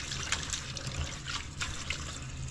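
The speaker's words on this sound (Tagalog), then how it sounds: "Mapuno ng tubig para ma-rinse lang siya ng tama." Running water pours steadily over mung beans being rinsed in a kitchen, a constant close trickling splash with no talking.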